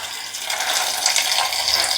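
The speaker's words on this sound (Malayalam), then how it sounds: "ഫിൽറ്റർ വാട്ടറാണ്, കുറച്ച് വെള്ളം ഒഴിച്ചു." Filtered water pours steadily into a vessel at a farmhouse kitchen, a soft continuous splashing trickle heard up close with no talking.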